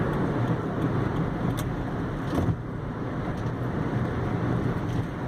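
Steady road and engine rumble inside a moving taxi as it overtakes another car, a continuous broadband roar with faint wind noise and a brief swell of passing sound midway.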